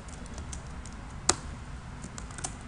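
Soft keystrokes on a computer keyboard in a spreadsheet session, scattered quiet taps with one sharper click, over a faint steady background hiss.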